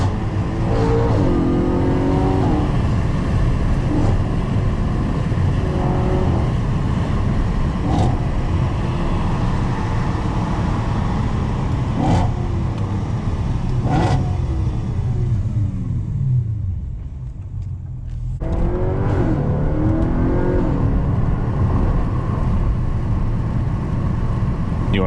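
An Audi RS5 with a 4.2L V8, driven at night, pulls hard in a loud, close engine roar that climbs through the revs, briefly drops away mid-way for a shift or lift, then surges again.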